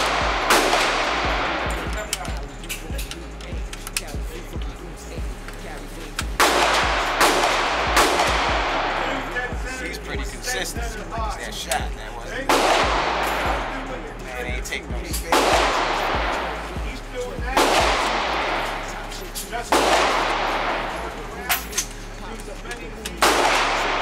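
Gunshots at an outdoor shooting range: several loud, sharp reports spaced a few seconds apart, each with a ringing decay, over low background rumble and occasional faint talk.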